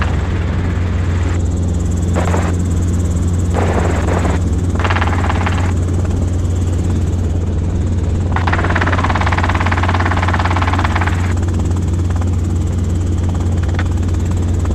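A Robinson R22 helicopter in flight, with a loud, constant engine and rotor drone heard from inside the cabin and intermittent radio chatter and talk over it.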